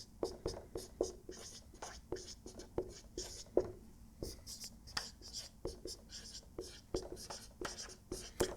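A lecturer writes on the board during a Laplace transform lesson, producing quiet, steady scratchy strokes in quick rhythmic bursts of tapping and scraping that run throughout.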